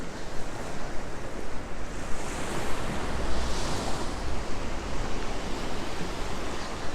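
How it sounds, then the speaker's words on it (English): Ocean waves washing onto the beach at Peguera, Mallorca, a steady loud roar of surf with gusty wind noise throughout and no voices. "I quite like coming down here to the beach as well."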